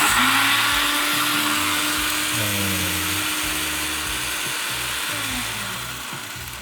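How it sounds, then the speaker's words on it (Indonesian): Electric blender whirring loudly and steadily as it grinds seasoning into powder for fried chicken, its motor pitch shifting slightly as the load changes, running continuously throughout and tapering a little at the end. "Oh ini blender begini aja."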